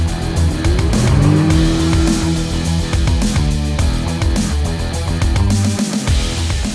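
A 2018 Kia Stinger with a twin-turbo V6 accelerates hard on a snowy, cold test drive. The engine drone rises loudly from inside the cabin, with tire noise steady underneath.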